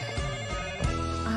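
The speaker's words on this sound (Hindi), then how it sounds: "देखो फोन बज रहा" A phone ringtone plays a steady, melodic electronic ring throughout, clear and close, with no one talking over it.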